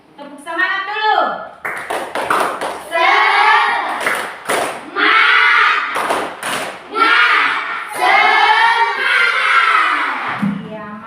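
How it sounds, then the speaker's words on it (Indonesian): A classroom of pupils performs a rhythmic clapping chant led by their teacher. Bursts of claps are spread across the clip, mixed with loud children's voices chanting in unison. "Tepuk semangat dulu."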